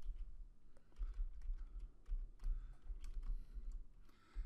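Typing on a computer keyboard in Microsoft Word, with quick irregular key clicks in short bursts and brief pauses, close and fairly quiet, with no talking.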